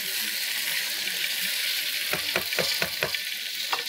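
Boiled chickpeas are stirred in a frying pan, a steady sizzle with a few soft scraping strokes of the spoon in the last half, close and without talking.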